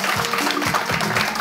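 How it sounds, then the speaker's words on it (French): Applause from an audience at a results deliberation for candidates, a dense, steady stream of clapping throughout the short moment. "applaudissez pour vous-même"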